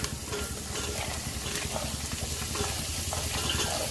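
Spices being stirred in a pan of pulao before green chickpeas are added, a steady soft sizzle with scraping and stirring textures, close and continuous without talk.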